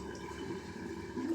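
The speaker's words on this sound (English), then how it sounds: "What a lovely sound that sink makes" Water drains from a bathroom sink after a wet shave, with a short, steady gurgling rush close by.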